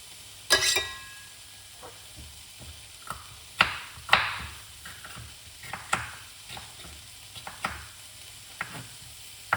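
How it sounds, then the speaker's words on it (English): Lentil couscous being stirred in a pan, with scattered scraping and clinking strokes at an uneven rhythm over a faint sizzle, close by with no talk. "Stir it up, Chef Ricardo."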